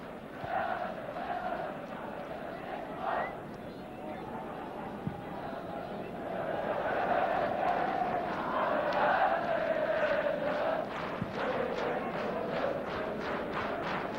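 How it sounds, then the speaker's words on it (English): A football crowd at a 1974 Division Two league match between Bristol Rovers and Aston Villa applauds a substituted young player, a broad murmur of clapping and chatter heard at a distance beneath a commentator's voice. "But the applause there for young Phil Bater, who did so well before developing an injury."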